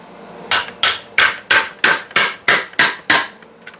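Eight loud, evenly spaced hammer blows in a row, each a sharp metallic crack with a short ring, striking to split open the case of a Tecumseh small engine pulled from the trash.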